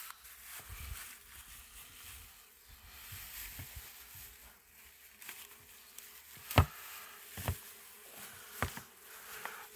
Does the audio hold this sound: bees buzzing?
yes